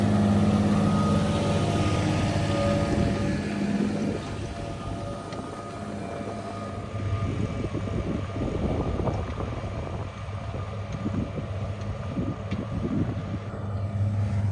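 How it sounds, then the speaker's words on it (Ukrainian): A CLAAS tractor pulls a Turkish UNLU plough through a field, its engine droning steadily while soil churns and scrapes in irregular bursts; the drone stays constant, mid-distance and moderately loud, with no talking. "А ми ці 3 гектара виоримо своїм трактором чудового, чудовим плугом"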